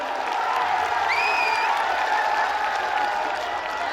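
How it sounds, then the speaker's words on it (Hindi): A large crowd at an outdoor rally claps and murmurs in a steady, continuous wash of noise, with a brief high whistle cutting through partway. "एक बार जोरदार तालियों के साथ इनका"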